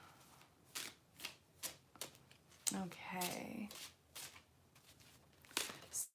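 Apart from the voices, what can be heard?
shuffling angel cards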